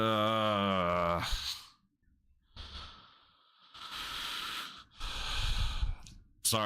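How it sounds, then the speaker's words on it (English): A live commentator breathes heavily and close into the microphone during a hockey playoff broadcast: a loud voiced exhale, then a pause, then two long, noisy breaths that blow straight into the mic. "I don't mean to be breathing into the mic."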